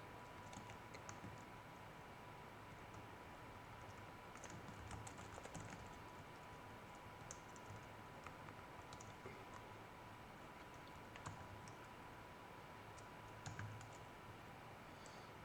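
Soft, rapid keystrokes on a computer keyboard while code is typed for a web lesson on cookies, coming in quick bursts with short pauses, quiet and close, with no voices.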